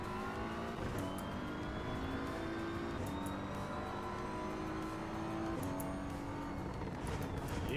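A racing car engine in the video game Assetto Corsa EVO revs and drifts steadily and loudly, its pitch rising and falling with throttle and gear changes under continuous tyre and engine noise.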